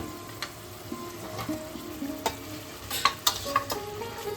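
Fried potatoes stirred into spices frying in a pan for an aloo potol dalna, with a soft sizzle under repeated spoon scrapes and clinks that grow busier toward the end, close and fairly quiet.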